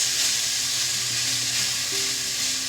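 Vegetables sauté in a pan for a soup of spring chicken, veggies and white beans, giving a steady, close sizzle with soft stirring and scraping throughout and no voices.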